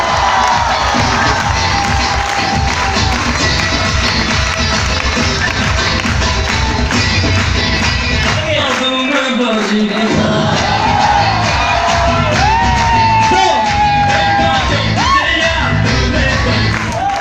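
A large seated crowd at a school assembly breaks into loud, sustained clapping mixed with cheering, whoops and children's shouts, the noise dense and energetic throughout.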